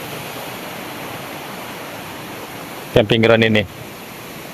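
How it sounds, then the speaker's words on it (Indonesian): A river near the Highland Camp camping ground at Curug Panjang roars as a steady, broad rushing wash in a cold, misty setting, with a voice briefly speaking over it near the end. "Deru sungainya juga kelihatan sangat jelas"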